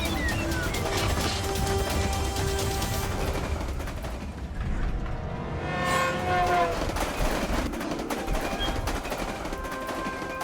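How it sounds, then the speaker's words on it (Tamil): An oncoming train rumbles continuously and loudly, its heavy roar mixed with rattling, clattering bursts, with no break in the noise. "முன்னாடி இன்னொரு ட்ரெயின் வந்துகிட்டு இருக்கு."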